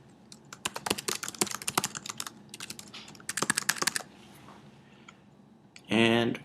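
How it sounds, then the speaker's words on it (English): Rapid bursts of keystrokes on a computer keyboard as an email address is typed, clattering in uneven runs with short pauses, followed by a brief loud click-like burst near the end. "this is our email address, so let's type that in"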